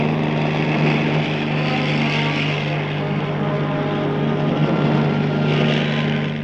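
A loud, steady helicopter engine drone with a rhythmic rotor beat holds throughout, like an aircraft flying close overhead, delivering supplies in Antarctica.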